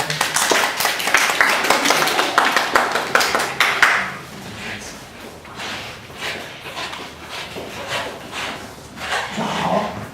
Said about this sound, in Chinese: 我们一起拍手欢迎他们上来